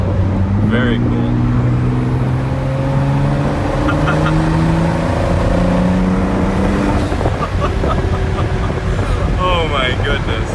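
A 2019 Ford GT's twin turbos whir steadily with rising tones while driving, loud and continuous under the engine's drone, with people talking over it.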